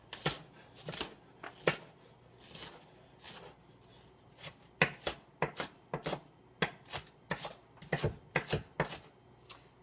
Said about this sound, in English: But I always like a little bit of red pepper in there as well.